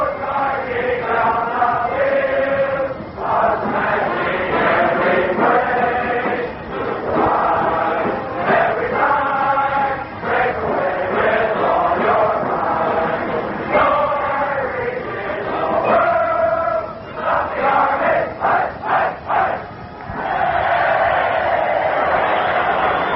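Army cadets sing with a band playing before a packed 75,000-strong football crowd at Yankee Stadium in 1946, a loud, lo-fi, continuous mass of voices and music with swelling phrases.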